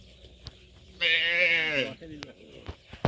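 A single goat bleats once nearby, a wavering nasal cry lasting about a second, followed by faint clicks and shuffling.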